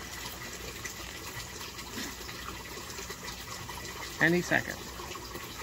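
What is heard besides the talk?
aquaponics U-siphon starting to drain water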